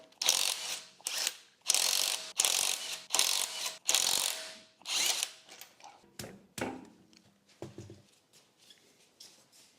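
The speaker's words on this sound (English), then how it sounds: "You can remove the lug nuts with a 17mm socket." A ratchet with a 17mm socket loosens lug nuts on an Audi Q3, giving loud, close clicking bursts in a steady back-and-forth rhythm that gradually slow and fade, with no talking.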